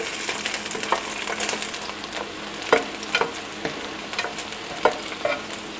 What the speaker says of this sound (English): we're gonna saute again the garlic,